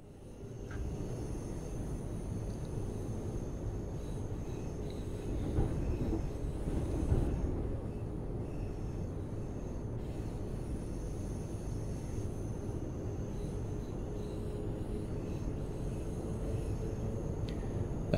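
Train in Train Sim World running on the Gospel Oak–Barking line, a steady rumbling drone of wheels and traction that holds at an even level throughout and swells briefly in the middle.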